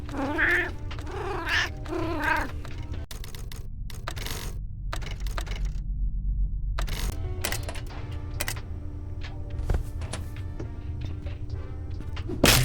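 A cat in the game Obenseuer meows and yowls repeatedly, mixed with sharp clicks and clattering game effects, with a dense, busy backdrop throughout.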